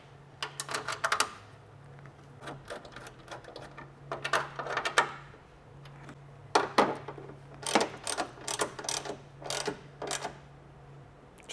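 Ratcheting tool snugging three bolts on a Toyota Tacoma tail light during a MESO Customs tail light kit install, heard as bursts of quick mechanical clicks and ratchet turns in uneven spurts against a low steady hum, fairly close.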